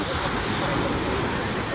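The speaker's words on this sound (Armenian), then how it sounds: "այստեղ արաբական ծովն է" Waves of the Arabian Sea wash in a continuous broad roar, loud and close, mixed with wind buffeting the microphone.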